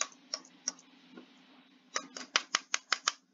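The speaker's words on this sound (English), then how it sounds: "you can hear the mouse click." A computer mouse clicks during a Roblox Bedwars game, a few sparse single clicks followed by a quicker run of six or seven sharp, close taps in a quiet room.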